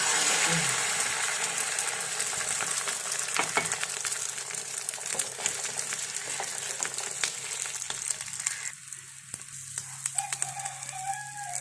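Egg mixed with spinach, onion and green chilli fries in oil in a pan, giving a continuous close sizzle with crackling pops and occasional stirring scrapes, which ease off slightly toward the end.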